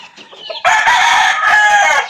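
Fighting roosters on a gamefarm cluck briefly, then one crows loudly and close for over a second, a strong sustained call in the keeping area.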